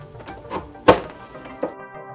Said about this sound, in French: Posa la main sur la poignée et la tourna.